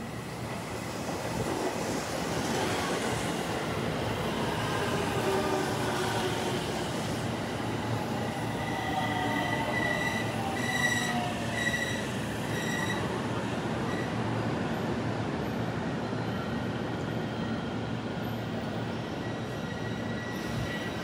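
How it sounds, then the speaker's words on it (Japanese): A train pulls into a station platform in Japan with a loud, continuous rumble of wheels on rails. Squealing brake tones rise in the middle and ease off as it slows. "当駅止まりの列車が到着します。"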